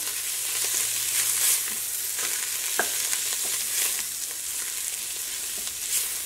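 Chicken biryani masala with mint sizzles in a pan as it is stirred and mixed, a continuous hiss of frying broken by soft scraping strokes and a sharp clink of the spoon, with no talking.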